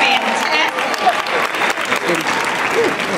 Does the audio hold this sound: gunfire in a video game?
no